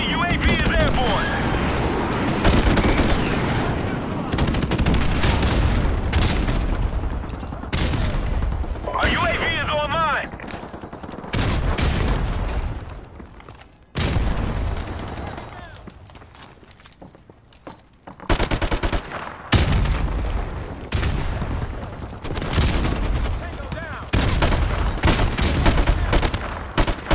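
Heavy automatic gunfire and explosive bursts from a Call of Duty: Modern Warfare multiplayer match rattle almost continuously at close range, broken by brief lulls, with a game announcer's voice talking over the battle.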